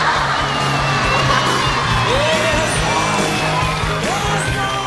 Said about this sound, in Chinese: 那我们用用热烈的掌声，请出我们唯一的一位男嘉宾小伟